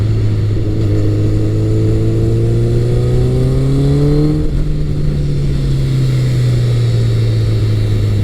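A Honda CBR1100XX Blackbird motorcycle engine growls loudly and steadily as it accelerates, the pitch rising smoothly through a gear before easing back, with constant wind rush throughout.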